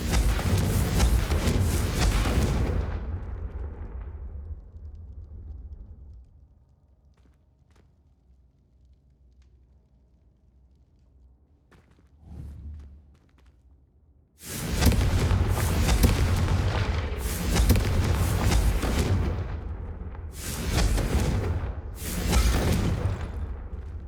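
Confringo fire spells burst in Hogwarts Legacy: a loud roaring blast fades into near silence, a small thump follows, then a fresh string of heavy explosive booms hits in close succession, loud and near.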